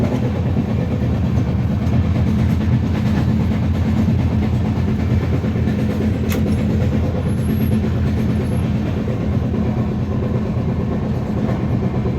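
Steady rumble and rattle inside a moving passenger train, heard continuously and close throughout, with faint clickety-clack of wheels on rails and no talk.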